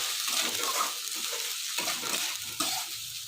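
Vegetables with capsicum frying for veg fried rice, a dense continuous sizzle with stirring and scraping against the pan, close up and with no voices.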